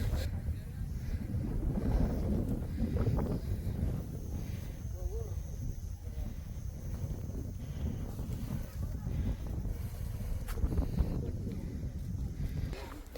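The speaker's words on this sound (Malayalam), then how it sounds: "നല്ല കാറ്റുണ്ട് കേട്ടോ. അപ്പോൾ എത്രത്തോളം വോയിസ് ക്ലിയർ ആവുന്നൊന്നും" Strong wind on the Kurishumala hilltop at Kakkadampoyil buffets the microphone, a loud, close, low roar that gusts unevenly for the whole stretch.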